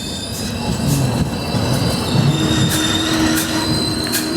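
The 17630 Hazur Sahib Nanded–Hadapsar Express running near Karmad, with a loud continuous rumble and squealing wheels on the rails, heard close from on board without speech.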